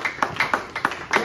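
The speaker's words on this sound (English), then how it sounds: "Oh, lift a clap of him to Jesus." A church congregation claps in a quick, slightly uneven rhythm, about nine sharp claps in just over a second, fairly close and moderately loud.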